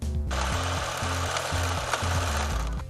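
A sewing machine stitches fabric for a witch costume sleeve, running in a fast, steady mechanical chatter with a rhythmic pulse, close and loud, from start to finish.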